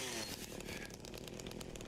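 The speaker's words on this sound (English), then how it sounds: "Now that I have chainsaw." Chainsaw in the Silent Hill 2 Remake video game revving steadily with a harsh, buzzing drone, loud and continuous for about two seconds, with no speech.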